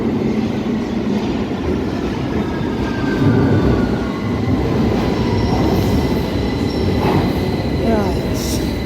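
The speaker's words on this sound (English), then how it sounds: "Piccadilly and Victoria line arriving at the same time." London Underground Piccadilly and Victoria line trains arrive together at an interchange platform, a steady loud rumble of wheels and motors with faint squeals of brakes and rails rising near the end, and a voice briefly heard over it.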